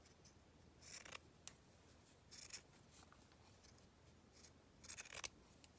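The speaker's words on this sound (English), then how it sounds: "my fabric here I'm going to have for the spine. So I'm just going to cut that down a little bit here" Scissors cutting fabric for a book spine, three separate short crisp snipping bursts, close and fairly quiet, with pauses between them.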